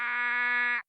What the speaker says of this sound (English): It's a burrowing frog.